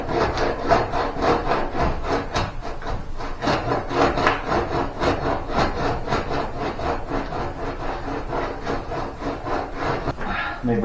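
A hand scraper rasps across a wooden surface in quick, repeated strokes, a continuous scratchy rubbing rhythm held close and fairly loud for about eleven seconds, with no talking.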